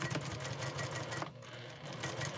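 A sewing machine stitches a seam through small quilt-block squares, a steady, loud mechanical whir with a brief dip partway through before it runs on again. No one speaks.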